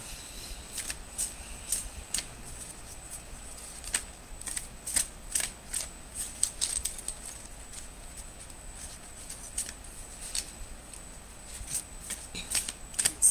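Tarot cards shuffled close by in repeated soft riffling bursts and light slaps, fairly quiet and steady over a faint background hiss, with no speech.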